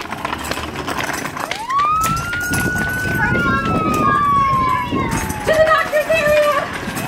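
An ambulance siren wails, rising in a single long sweep and then slowly falling in pitch, fairly close, while people talk over it and footsteps patter nearby.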